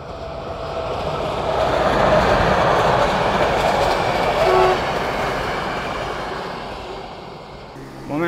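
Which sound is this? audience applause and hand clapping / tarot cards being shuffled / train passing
train passing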